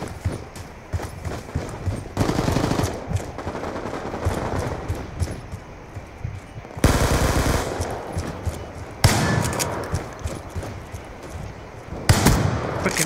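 Gunfire from Call of Duty Black Ops 2 multiplayer Gun Game mode: loud bursts of automatic fire and shots in several separate close volleys, with abrupt starts and stops.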